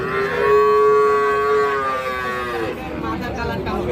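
A young bull calf at a cattle market gives one long, loud, close moo that lasts a few seconds and then tails off into the low background noise of the market.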